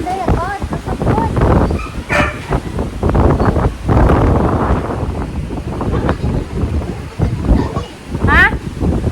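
Strong wind buffets the microphone in loud, continuous gusts under an outdoor storm, with people talking throughout and a dog yipping and barking in brief bursts.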